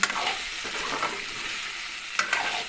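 Potato and eggplant pieces fry in a pan with steady close sizzling, broken by a couple of brief stirring scrapes near the start and again near the end.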